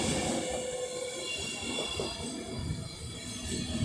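An Alstom Pendolino electric train rolls into Rugby station on the West Coast Main Line, a steady rumble of wheels on rails with high squealing tones, heard from the platform at moderate distance.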